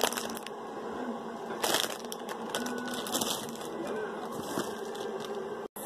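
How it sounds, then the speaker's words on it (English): A squishy toy is squeezed inside its plastic packaging, making continuous crinkling and crunching plastic with a few louder squeezes, close and fairly loud. "I'm going to squish it again in its packaging"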